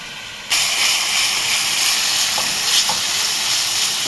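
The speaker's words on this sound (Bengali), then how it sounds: "মশলাটাকে ভালো করে একটু ভেজে নেব" Ground coriander, cumin, Kashmiri chili and turmeric fry for ghugni in a pan, bursting into a loud, steady hiss of sizzling that holds throughout, with a couple of faint stirring scrapes.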